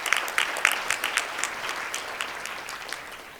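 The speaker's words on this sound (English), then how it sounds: "just kind of a round of applause to the work" A room full of conference attendees at a perinatal quality improvement annual meeting breaks into a round of applause, steady clapping that starts strong and gradually thins out, with no talk over it.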